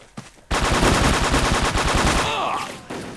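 Rapid machine-gun fire from an online shooter game, WolfTeam, in a dense sustained burst after a brief opening pop, loud and close, tailing off near the end.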